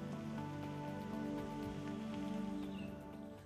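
Steady monsoon rain patters on surfaces in a city, a continuous dense wash of drops with a faint low hum underneath, no voices.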